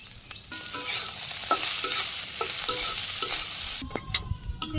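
Eggs and shrimp being stirred and fried in a pan in a Bangladeshi village kitchen, a steady sizzle with repeated spatula scrapes and stirs throughout, close and fairly loud, with no talk.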